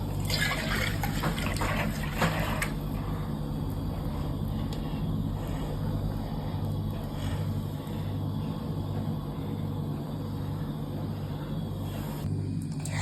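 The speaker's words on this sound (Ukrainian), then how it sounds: "Закриваємо банку і струшуємо, щоб створилося торнадо." Water being shaken inside a closed jar to form a tornado, a steady close sloshing and swishing that runs continuously on its own, busier at the start.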